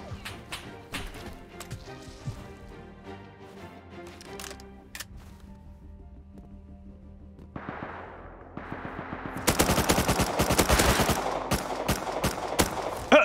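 Gunfire in the survival game Rust starts as scattered sharp shots and builds into dense rapid bursts, loud and close, over a faint musical background.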